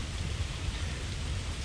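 Steady rain in the survival video game Ark Survival Evolved, a dense continuous hiss of falling drops with a low rumbling body, even and unbroken throughout with no voices.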